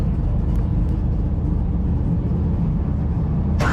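A 4000 HP Camaro race car sits idling with a loud, steady low rumble throughout, then a brief high-pitched burst rises near the end.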